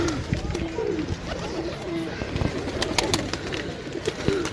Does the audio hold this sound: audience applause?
no